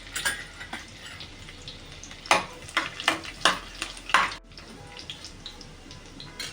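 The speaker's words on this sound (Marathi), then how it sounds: "लसूण थोडी तेलामध्ये भाजायला द्यायची आहे" Cumin, mustard seeds and finely chopped garlic frying in hot oil give a soft, steady sizzle broken by a cluster of sharp crackles and spoon clatters midway, then settle back to a quieter hiss. No one speaks.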